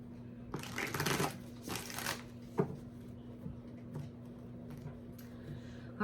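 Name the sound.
shuffling tarot cards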